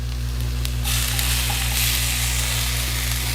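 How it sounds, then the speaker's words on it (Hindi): Ginger, garlic and green chili sizzle and fry steadily in oil on a hot tawa, a continuous close crackling hiss that brightens after the first second and holds without talk. "हल्का सा फ्राई हो गया है अदरक लहसुन भी, मिर्ची भी"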